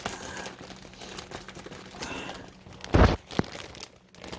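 Plastic packaging around a bamboo mattress pad being cut open: soft crinkling throughout, then a loud sharp crackling burst followed by a brief second crinkle.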